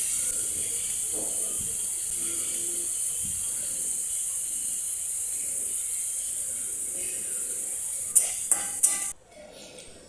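Potatoes sautéed and stirred in a pan while cooking bhagar, a steady sizzling hiss running throughout with a few sharp clinks of a spoon against the pan near the end.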